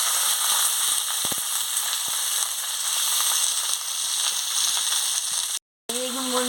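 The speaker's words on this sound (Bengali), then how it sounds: "তেল গরম হয়ে গেছে, 5 ফোড়ন আর শুকনো লঙ্কাটা দিয়ে দিচ্ছি। এবারে কুঁদরিটা দিয়ে দিচ্ছি এর সঙ্গে।" Ivy gourd, five-spice seeds and dried chilli crackle in hot oil, a dense steady sizzle with a few faint clicks, close and continuous, broken by a brief dropout near the end.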